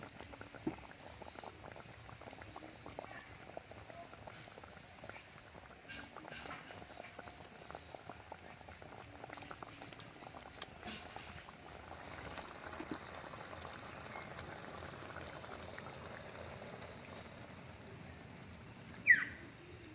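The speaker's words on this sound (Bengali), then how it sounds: "সবশেষে ধনেপাতা দিয়ে কিছুক্ষণ ফুটিয়ে নামিয়ে নেব" A pot of fish curry with coriander leaves boils on low heat, giving a faint, steady bubbling that goes on throughout and ends in one brief louder knock.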